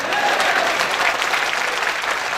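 Crowd at a sales training session gives a sustained burst of applause, a steady wash of many hands clapping together at close range, continuous and fairly loud throughout.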